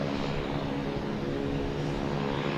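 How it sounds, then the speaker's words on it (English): Airbus A220 jet landing at Boston Logan airport, a steady loud engine roar and rumble holding constant throughout with no talk. "Next coming in is a JetBlue coming in from Fort Myers,"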